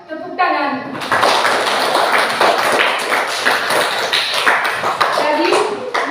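Hands clap together in a classroom for a few seconds, a dense, close round of applause following a brief voice at the start.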